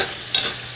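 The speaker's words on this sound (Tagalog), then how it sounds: "Lagyan na natin alamang." Shrimp paste (alamang) hitting a hot pan for pakbet, a brief hiss followed by a sudden bright sizzling burst and a quick stir, close and loud with no voices.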